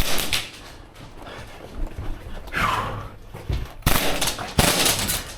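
A Krytac Maxim 9 airsoft gun fires in short bursts of rapid, snappy mechanical shots, close and fairly loud, with gaps of rustling movement in between and brief background noise.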